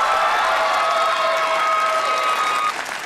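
Studio audience on a Vietnamese TV dating show bursts into steady, dense applause that fills the room for about three seconds before tapering slightly at the end.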